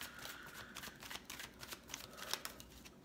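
A deck of romance cards being shuffled during a reading: soft, continuous riffling and papery flicks, close and quiet, with no voices.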